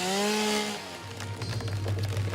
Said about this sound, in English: I was just about to use my chainsaw for the first time.